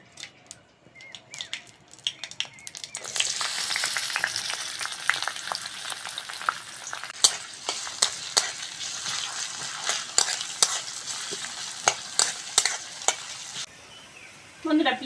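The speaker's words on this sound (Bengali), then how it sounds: "বন্ধুরা পেঁয়াজটা শুকনো লঙ্কা ভেজে নিয়েছি" Dried red chillies and chopped onion fry in mustard oil in a kadai, a loud bright sizzle that swells in after a quiet start, punctuated by scraping stirs, with faint birdsong outside.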